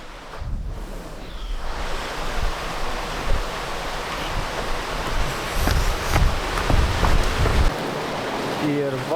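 Water pours steadily over a beaver dam, a broad continuous rushing wash heard close by, with a few footsteps or brief handling bumps and no clear talk.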